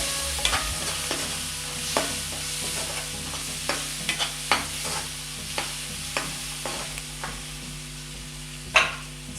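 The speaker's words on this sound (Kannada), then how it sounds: "ಸೊ ಇದನ್ನು ಇನ್ನೊಂದ್ಸರಿ ಮಿಕ್ಸ್ ಮಾಡ್ಕೊಳ್ಳೋಣ" Melted jaggery mixture stirred in a pan, a series of irregular scraping and clinking strokes over a faint steady sizzle, close and moderately quiet with no talking.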